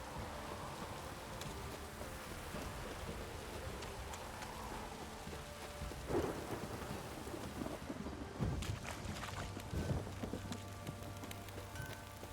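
Steady rainfall in The Witcher 3: Wild Hunt video game patters continuously at low volume, with occasional soft rumbles and thuds rising briefly toward the end.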